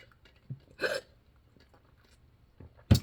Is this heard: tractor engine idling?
no